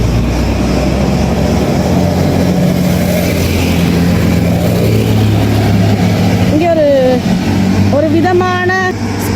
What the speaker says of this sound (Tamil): ஸ்கூட்டர் ஓடினோம்.